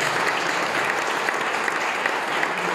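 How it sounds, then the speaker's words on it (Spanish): An audience at a cultural gathering applauds in a continuous, even roar of many hands, moderately loud and steady from start to finish with no talk on top. "yo creo que se merece un fuerte aplauso y un gran reconocimiento"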